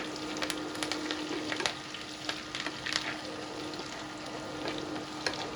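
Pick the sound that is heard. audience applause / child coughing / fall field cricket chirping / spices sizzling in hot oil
spices sizzling in hot oil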